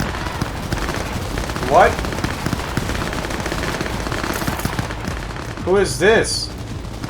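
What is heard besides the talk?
gunfire in Cyberpunk 2077 video game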